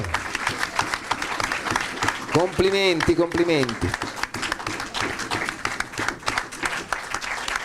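An audience claps for a Paradance wheelchair dance champion at an awards ceremony, brisk continuous applause with a presenter speaking over it and a short musical or sung passage rising in the middle.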